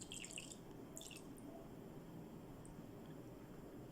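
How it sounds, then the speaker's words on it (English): Water being added into a small Ferrero Rocher box paludarium, faint dripping and trickling in a couple of brief bursts near the start over a low, steady background hum. "So we continue adding water."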